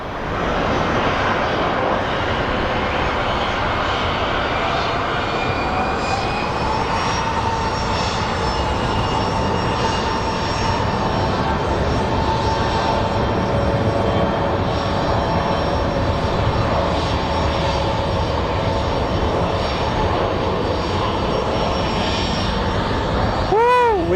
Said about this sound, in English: we have a CRJ 200. It's a cargo, it's a freighter plane coming in from Mexico